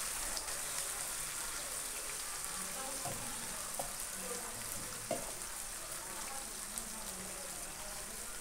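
Ginger and chilli paste frying in oil in a pan, a continuous crackling sizzle like light rain, even and close, with occasional small pops and stirring clicks.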